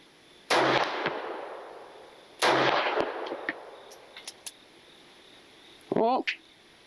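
A 1915 French Ruby pistol fires two loud, sharp shots about two seconds apart, each ringing out briefly, followed by small clicks and a voice speaking.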